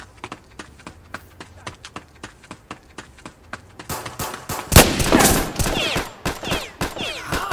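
Rapid video-game gunfire in a Roblox shooter, first as a run of sharp regular shots, then a denser, louder volley of overlapping bursts and impacts, with no talk.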